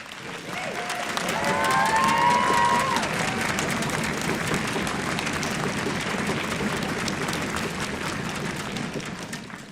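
An audience at a middle school fall orchestra concert claps and cheers for six beginner orchestra students as they stand, a dense, steady wash of applause that swells near the start and holds loud throughout, with a few brief whistles early on.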